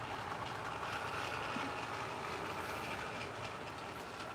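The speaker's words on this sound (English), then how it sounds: "it's nice just to watch the train run." A Thomas the Tank Engine toy train runs steadily along its track, giving a continuous close rattling hum with faint clicking throughout and no talk.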